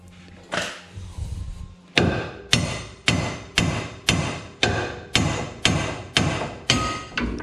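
A hammer strikes a ball joint on a 2005 Dodge Dakota 3.7L 4x4 in a run of about eleven loud, sharp metallic blows, evenly spaced and close up, after one early hit and a short pause.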